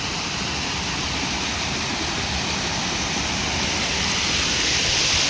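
Water flows steadily outdoors near a fishing spot, producing a dense, even rushing hiss that holds at constant loudness throughout with no voices over it.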